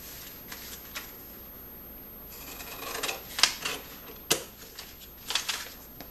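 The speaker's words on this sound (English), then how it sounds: "I want to cut off all this excess material now." Scissors trim excess paper off an envelope, soft rustling followed by several crisp close snips and paper crackles, with no talking.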